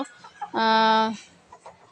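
A backyard hen gives one loud, drawn-out cackle lasting about half a second, with softer clucks and small bird sounds around it, close by.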